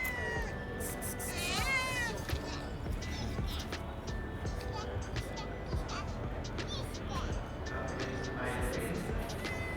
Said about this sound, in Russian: киса.